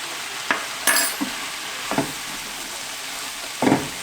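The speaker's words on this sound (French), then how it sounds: "Je vais ajouter 2 cuillères à soupe de farine et mélanger." Flour being stirred into cooking vegetables for a beef stew, giving a few separate scraping, rustling bursts of a spoon in the pot over a low steady sizzle, close by with no talking.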